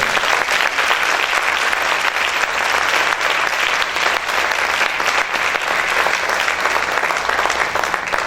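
A church congregation claps loudly for the Lord, a dense, sustained roar of applause that stays full and even throughout, with no voices standing out above it.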